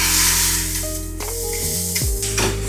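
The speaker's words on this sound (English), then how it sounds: "Drop the egg." Egg dropped into a hot frying pan for a Taiwanese egg pancake, a loud, close, steady sizzle with a brief surge and tonal hum from the stove underneath.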